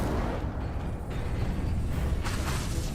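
A fire spell cast in the video game Hogwarts Legacy gives a loud, dense roaring burst that holds steady for the whole moment, with a brighter flare of hiss near the end.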